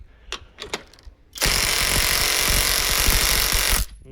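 A LEADER impact wrench runs at its second speed on a screw and pallet, a loud sustained hammering rattle lasting about two and a half seconds after a few faint knocks.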